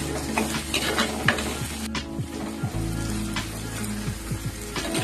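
Tomatoes with salt sauté in a pan alongside garlic and onion for a garlic kuzhambu. A steady crackling sizzle runs under repeated scraping strokes of a spoon stirring against the pan, close up, with no voices.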